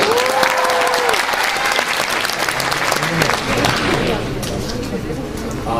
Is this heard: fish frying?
no